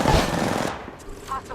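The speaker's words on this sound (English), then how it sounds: "Opening fire." Gunfire in Apex Legends: a close burst of rapid automatic shots fades into a softer rattle of distant fire, with quieter game sounds trailing after.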